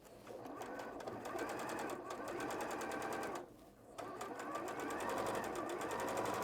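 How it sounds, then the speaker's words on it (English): A sewing machine stitches quilt fabric in a fast, steady mechanical chatter, pausing briefly midway before running on again, close and continuous with faint voices in the background. "you'd sew your sew line 1/4 inch from either side of that marked line"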